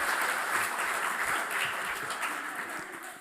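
An audience at a university honours programme closing ceremony claps steadily throughout, a broad even wash of applause that slowly tapers toward the end.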